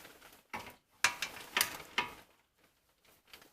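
A ratchet wrench tightens the bolts on an upgraded Wilwood front disc brake of a 2011 Lexus LX 570, giving several short bursts of clicking separated by brief pauses, close and clear.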